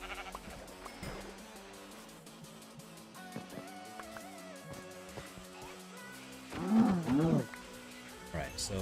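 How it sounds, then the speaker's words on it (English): Sheep bleating in the blocky survival game Minecraft, a couple of wavering bleats rising out of background game music and ambience around the middle of the stretch, with a further short bleat near the end. "There's so many sheep."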